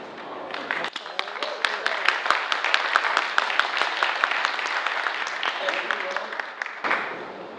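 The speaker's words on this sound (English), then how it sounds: "Audience, remember our rules state no undue applause." Audience at a city council meeting in Mobile, Alabama bursts into applause, a dense burst of many hands clapping that holds steady for several seconds before cutting off abruptly.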